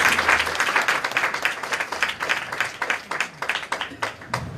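Congregation at a Christian worship service clapping loudly in praise, a dense, steady wave of hands that thins into scattered claps toward the end.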